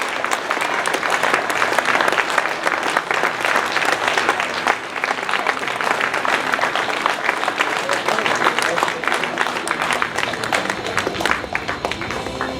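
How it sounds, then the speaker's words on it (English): A theater audience at the historic Admiral Theater gives loud, dense, sustained applause after a question-and-answer session. The clapping stays even and unbroken throughout. "Let's give them another big round of applause"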